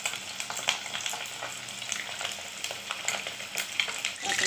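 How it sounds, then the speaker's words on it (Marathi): Chicken lollipops fry in shallow oil over a low flame, giving a steady, close crackling sizzle with scattered sharp pops and no voices. "मंद आचेवर का आता हे फ्राय करायचे आपल्याला।"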